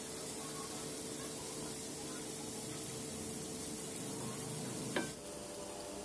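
Two medium potatoes frying in hot oil give a steady, even sizzle that hisses continuously, with a brief clack near the end before the sound drops slightly quieter.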